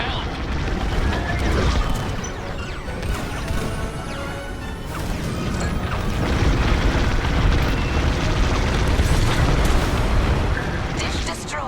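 A dish is destroyed in the Star Wars Squadrons space combat game, setting off a dense, loud wall of explosions and crashing debris that rumbles and booms without a break for over ten seconds.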